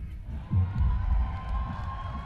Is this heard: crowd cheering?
yes